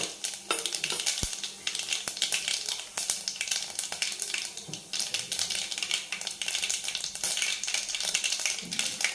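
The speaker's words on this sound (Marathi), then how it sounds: "ही मोहरी टाकून घेऊ आपण छान तडकू द्यायची मोहरी" Mustard seeds and cumin crackle and spit in hot oil for a tadka, a dense, continuous sizzle with sharp popping ticks scattered throughout, steady and close with no talking.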